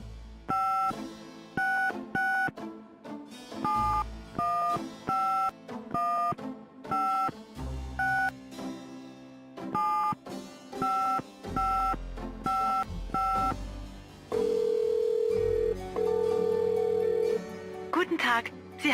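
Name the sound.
telephone dialing tones in Gabriel Knight video game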